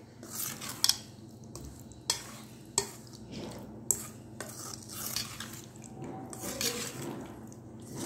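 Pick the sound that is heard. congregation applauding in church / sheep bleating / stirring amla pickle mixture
stirring amla pickle mixture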